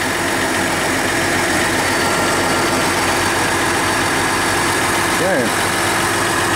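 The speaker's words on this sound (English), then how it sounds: "For a diesel, these things are quiet," A 2020 3.0L Duramax diesel engine idles steadily and fairly quietly close by, a constant low hum running throughout while a person briefly speaks.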